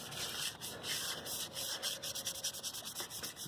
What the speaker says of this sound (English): you can just hear that brush, it's scraping against brake dust.